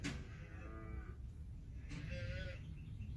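Young calves moo repeatedly from a cattle herd in a farm field, several drawn-out calls spaced through a steady outdoor background, fairly close and clear.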